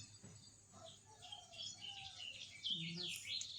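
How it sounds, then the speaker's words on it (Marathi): Many sparrows twitter around a home courtyard with a tulsi plant, a fairly faint, busy chatter of small chirps that grows brighter and denser toward the end. "इथंही चिमण्यांचा खूप किलबिलाट चालला होता."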